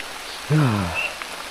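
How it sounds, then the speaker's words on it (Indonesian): Rain falls in a steady, soft hiss, briefly overlaid by a short hummed or sung voice. "hujan turun ke bumi"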